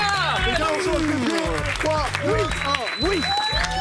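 A game-show audience applauds the winning team, the clapping mixed with loud sweeping tonal sounds and crowd noise throughout.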